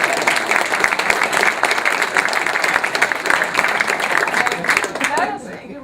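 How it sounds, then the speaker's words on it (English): Audience in a lecture hall at an evening science talk on the Cassini mission breaking into dense, sustained applause, loud and close, fading out near the end. "How about a round of applause for the taxpayers?"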